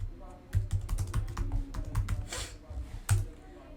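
Someone types code on a computer keyboard in quick, uneven bursts of close, clicky keystrokes with a few heavier taps, and no one speaks over it.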